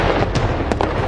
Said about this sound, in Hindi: कितने सुंदर पटाखे हैं ना